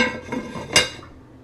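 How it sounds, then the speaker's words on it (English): Metal lid set onto a pot of low-simmering homemade vegetable broth: a few soft clinks, then one sharp, bright clank that rings briefly and fades, heard close and alone. "I'm gonna put the lid on."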